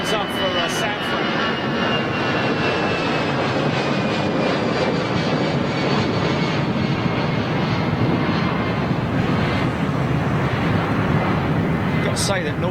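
Norwegian Air Shuttle airliner with a red-nosed livery taxiing or passing at London Gatwick Airport, a steady loud engine roar with wind buffeting on the microphone and people chatting over it.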